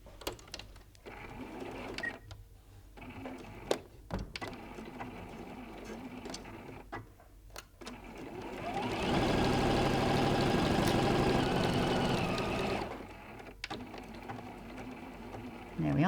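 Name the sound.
sewing machine stitching the bag lining side seams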